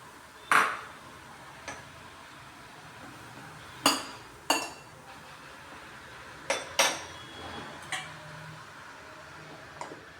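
A metal cooking vessel being handled in a kitchen, giving a handful of separate sharp clinks and knocks spaced over several seconds against a quiet background.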